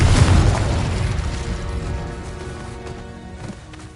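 Confringo blasting spell from Hogwarts Legacy erupts in a loud, deep booming explosion right at the start, then rumbles and crackles away over several seconds with a few faint pops near the end.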